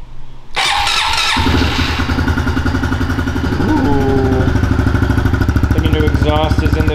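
A 2024 Honda CRF110F dirt bike engine cranks and catches, then settles into a loud, rapid, sputtering idle with a few throttle blips, heard up close.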